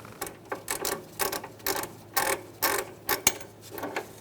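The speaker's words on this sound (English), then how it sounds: "socket and a ratchet, we're gonna loosen up our sway bar link nut" A socket ratchet loosening a sway bar link nut on a 2012-2019 Fiat 500, a rhythmic series of about a dozen sharp, close clicking bursts in quick succession.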